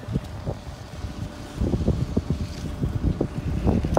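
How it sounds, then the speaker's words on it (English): Wind gusts across an outdoor concrete job site, a steady rumbling buffet on the microphone that grows stronger partway through, with no one talking. "Hope this wind's not getting bad."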